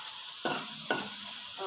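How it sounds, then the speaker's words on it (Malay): Anchovies (ikan bilis) fry in a pan with a steady, faint oily sizzle, broken by two distinct stirring scrapes and another soft stir at the end, with no voices. "Cik Nam dia goreng ikan bilis je."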